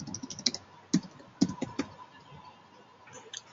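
A computer keyboard is tapped in a few scattered, close keystrokes, light clicks bunched near the start with a quiet gap before two faint final taps, and no speech.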